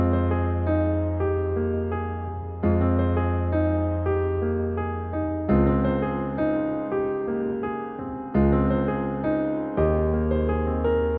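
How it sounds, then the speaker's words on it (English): A piano pain-melody chord pattern programmed in FL Studio, with sustained chords restruck every few seconds and bright upper notes that decay between strikes, played alone. "So the full piano pattern sounds something like this."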